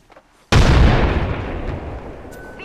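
A frag grenade goes off in a video game as one sudden loud blast after a short quiet lead-in, followed by a long rumbling decay and debris.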